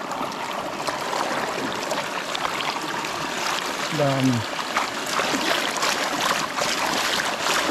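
Water flows and trickles through a farm field near a rice paddy, a steady close rushing wash throughout, with someone speaking briefly over it partway through.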